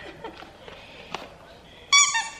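After a few soft taps, a squeaky dog toy lets out a sharp, high-pitched double squeak near the end.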